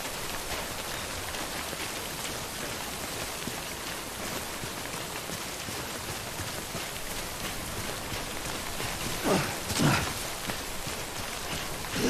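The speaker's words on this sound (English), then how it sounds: "Don't stay out in the rain any longer than you have to." Steady heavy rainfall in the Death Stranding video game, an even hiss of drops on surfaces throughout with a couple of brief louder swells near the end.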